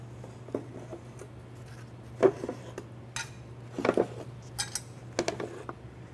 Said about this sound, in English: I'm going to go ahead and just use my mesh basket because I'm going to go ahead and put some utensils in there as well